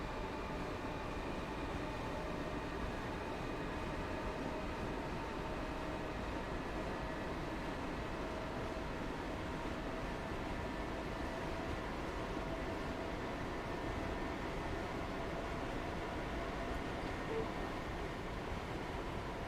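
A Class 323 train runs on the Birmingham Cross City line in Train Sim World 4, giving a steady, continuous rolling rumble with a faint whine that stays unchanged throughout.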